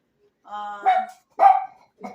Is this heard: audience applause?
no